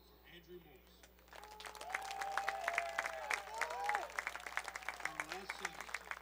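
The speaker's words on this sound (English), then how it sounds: "Please give a round of applause for Andrew Morse" An audience claps for a senior men's lacrosse player at a Southwestern University senior recognition, a moderately distant, steady patter of many hands that builds and holds, with a tonal hum and brief background voices.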